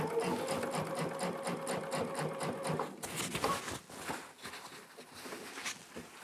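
A sewing machine with a walking foot stitches a quilt in a fast, steady mechanical patter. It runs close and continuous, then the rhythm shifts and loosens partway through.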